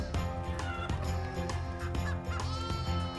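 Hen and ducks in a barn, giving repeated clucking and quacking calls in quick succession, fairly close and clear with short pauses between the bursts of fowl noise.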